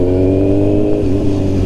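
A Kawasaki Z900 motorcycle with a Mivv carbon full exhaust system rumbles loudly and close, a deep throbbing engine note swelling slightly in a brief rev.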